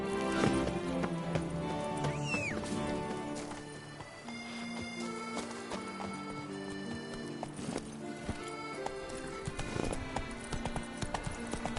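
Roach, the horse in Witcher 3: Blood and Wine, gallops with rapid rhythmic hoof clip-clops, a whinny breaking in early on, set over a soft game music backdrop at moderate loudness.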